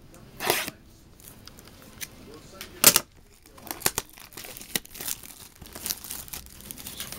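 Packs from a 2011 Panini Absolute trading card blaster box being ripped open, close and sharp, with scattered bursts of tearing and crinkling foil wrappers separated by quieter handling sounds.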